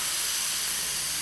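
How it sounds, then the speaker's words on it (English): Steam hisses steadily from the boiler of a restored Mamod SA1 model steam car, a loud, close, continuous hiss with no talk. "Nice cloud of steam coming out."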